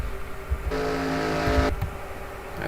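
Race cars in an online racing game at Pocono, a steady engine drone that swells into a brighter tonal whine for about a second before settling back, with no talk.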